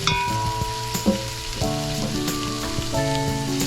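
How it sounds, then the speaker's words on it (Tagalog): Fried pork chops for bistek go into a hot pan, giving a loud, steady, close sizzle that runs the whole time, with faint scraping and tonal background sounds. "pwede mo na ngayong ilagay ang iyong karne na pinirito. Ilagay mo lang sila lahat sa ibabaw."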